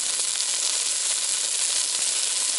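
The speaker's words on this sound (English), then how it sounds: "And you can probably hear the sizzle." A cod fillet frying in a pan gives off a loud, steady, close-up sizzle, a continuous bright hiss with no break and no voices.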